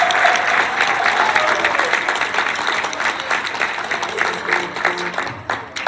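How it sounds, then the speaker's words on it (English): Audience at a state convention applauds in a dense, steady wash of clapping that fills the room, loud throughout and starting to thin toward the end. "Can we give another round of applause?"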